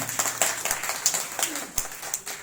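A crowd claps for a woman being honored at a public gathering in India, a brisk, moderately loud patter of many hands with sharp individual claps standing out, continuing evenly throughout.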